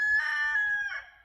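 A rooster crows once, a loud, close, drawn-out call with a rising start and a tailing end, clear against a quiet background with no talking.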